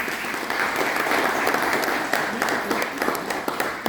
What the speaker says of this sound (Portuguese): Um aplauso aí para o meu mestre Assis.